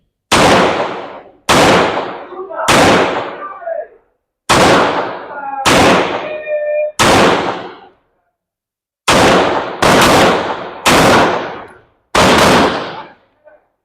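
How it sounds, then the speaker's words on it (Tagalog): Ten sharp gunshots from a Tisas 2011 Commander double-stack 1911 pistol with a 4-inch barrel, loud and close, fired in uneven groups with brief ringing decays and pauses between strings, no talking. "upon firing TISA sa 4 inches double stack 1911."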